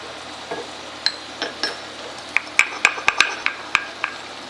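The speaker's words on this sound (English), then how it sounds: "now we are going to crush the cumin seeds and pepper just slightly, just to incorporate flavor, not to a powder way" Cumin seeds and pepper are crushed with a run of light, sharp clinks and taps that grow quicker and more frequent partway through, close up and with no talking.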